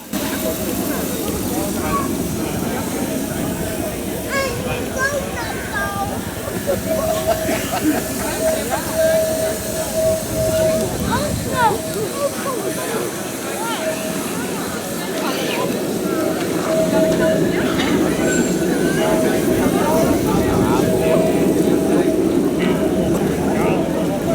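A small model steam locomotive with a two-cylinder engine hisses and chuffs continuously, with a faint steady whistle-like tone running through it and people talking throughout.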